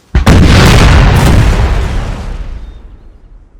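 A loaded cannon captured from the French army at the Battle of Waterloo fires a single loud, close blast with a sharp onset, then a long rolling rumble that slowly fades over several seconds.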